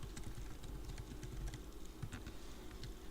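Commands typed on a computer keyboard, a quick, irregular run of soft key clicks and taps, continuous and close, with no voices.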